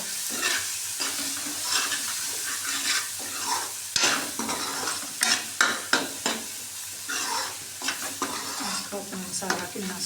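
Potatoes, carrots and peas with spices fry in a pan, with a continuous sizzle and frequent scraping and clinking stirs that speed up into rapid strokes toward the end.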